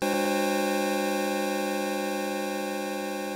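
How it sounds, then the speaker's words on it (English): Six detuned square-wave oscillators set at inharmonic pitches, the raw source of a recreated TR-808 hi-hat patch in Phase Plant, form a dense, buzzing metallic drone that holds steady and loud throughout, with two quick clicks near the start. "an inharmonic mess of square waves that sounds like this"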